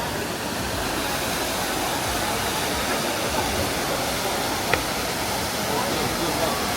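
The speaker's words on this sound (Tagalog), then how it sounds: "Nasa Trevi Fountain na tayo." Water pouring and splashing at the Trevi Fountain in Rome, a dense continuous rushing wash that fills the scene steadily, with faint crowd voices mixed in.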